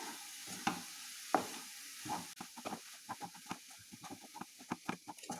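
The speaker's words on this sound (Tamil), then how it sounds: "கூடவே தேங்காய் துருவல், ஏலக்காய் சேர்த்து நல்லா கலந்து விட்டுறலாங்க" A spoon stirs a sweet purnam filling of cooked mung dal, grated coconut, cardamom and jaggery in a pan over low flame, giving soft scraping taps and a faint sizzle in irregular bursts close by, with no talking.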